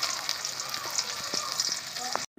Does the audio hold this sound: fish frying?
yes